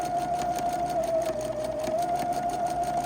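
A sewing machine stitches fabric for a baby bib, running slowly and steadily around a curved corner, a close continuous motor whine with a faint rapid needle pulse and no talking.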